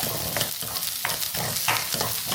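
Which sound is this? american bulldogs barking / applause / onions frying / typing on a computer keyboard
onions frying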